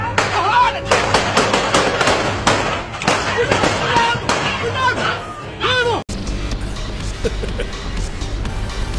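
Rapid bursts of gunfire in the shoot 'em up Remote Life crackle almost nonstop, loud and dense, with a voice talking excitedly over the shooting.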